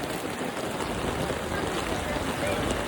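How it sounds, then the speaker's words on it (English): Steady rain falls outdoors in the dry upper Murray region during a festival, a continuous close hiss of drops on surfaces, with no speech heard. "It's raining now."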